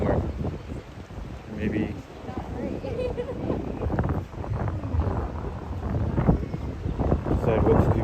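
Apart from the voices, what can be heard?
wind blowing outdoors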